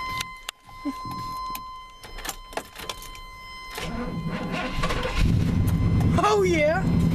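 A Chevy truck that sat for almost four months is cranked and starts: a short whirring crank, then the engine catches and runs with a rising roar, preceded by clicks and keys, with people talking nearby.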